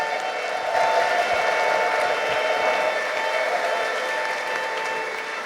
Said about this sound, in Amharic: ጉባኤው አንድ ጊዜ በእግሮቹ ቆሞ እልልታውን ጭብጨባውን ለእግዚአብሔር እንዲያሰማ ፈልጋለሁ።